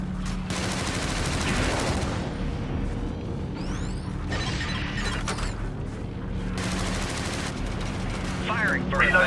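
Rapid bursts of gunfire and explosive artillery booms from the video game Helldivers, loud and near, in dense clustered volleys with mechanical clanks and whooshing streaks between them and a steady low rumble underneath.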